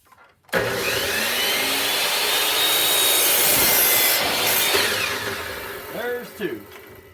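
A miter saw set at a 45-degree angle cuts through wood corners, a loud whining buzz that starts abruptly, holds for about four seconds, then winds down with a fading motor hum.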